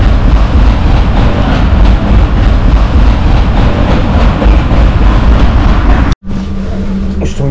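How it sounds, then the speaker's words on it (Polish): A passenger train rolling on rails through the Beskid Śląski mountains in winter, a loud, steady rumble and rattle for about six seconds before cutting abruptly to a quieter hum. "Pociągiem."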